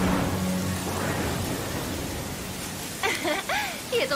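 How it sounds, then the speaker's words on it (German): A cartoon thunderstorm in My Little Pony: Friendship is Magic: steady roaring rain with rumbling thunder fills the scene throughout, and voiced characters speak briefly near the end. "Oh, oh, der Sturm."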